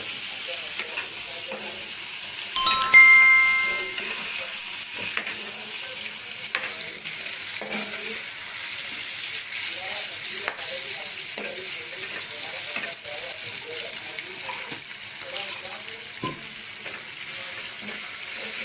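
Drumsticks are stirred in spice masala in a hot pan for a dhaba-style shevga masala, a steady frying sizzle with soft scraping stirs throughout and one brief clink.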